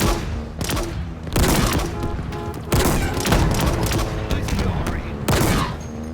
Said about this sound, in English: It's kind of hard to hear them shoot or fire the rockets with the Marines firing